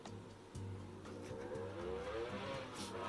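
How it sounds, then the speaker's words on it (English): A motor vehicle engine roars past close by, its pitch rising and then sweeping down, loud and steady across the whole clip. "Sorry if you can hear that motorbike."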